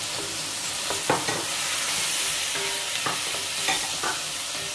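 Tomatoes and onion sautéing in a pan, a dense close sizzle and crackle with repeated spatula scrapes and stirring taps.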